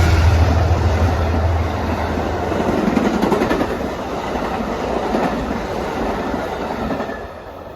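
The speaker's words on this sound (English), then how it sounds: "that was Amtrak 49, the Lakeshore Limited, New York to Chicago" Amtrak Lake Shore Limited passenger train, New York to Chicago, passing near Croton-Harmon on the Hudson line: a loud continuous roar of rail cars with rhythmic clickety-clack of wheels, close by and fading slightly at the end.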